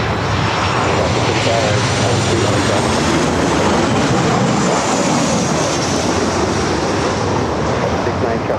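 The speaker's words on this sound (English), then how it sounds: "This arrival is Delta Airlines 2769 coming in from Seattle on the" A Delta Airlines Boeing 737-800 from Seattle lands on runway 24R at LAX, its engines roaring steadily and loud for the whole stretch, close by, with no talk over it.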